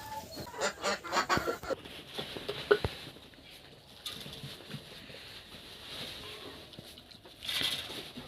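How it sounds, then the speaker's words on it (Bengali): Backyard chickens clucking near a duck coop, a busy patter of short calls and rustling at moderate distance, with bursts of activity early then quieter scattered clucks. "মুরগিগুলো বড় হয়ে গেছে।"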